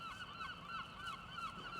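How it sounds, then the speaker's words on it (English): Seagulls keep calling over a residential street in Croydon, London, with a run of repeated, wavering cries that carry on continuously at moderate distance over low background noise. "Lots of seagull activity."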